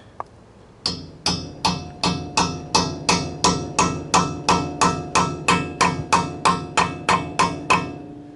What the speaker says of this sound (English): Then we're just gonna hammer it on.